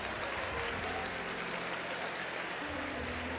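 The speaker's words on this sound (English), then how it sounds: "Please give a big round of applause to our sponsors for making this evening possible" Steady applause from an evening event audience thanking its sponsors, a dense even patter of many hands clapping throughout without pause.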